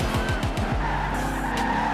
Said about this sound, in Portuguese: Ah, rola um drift fácil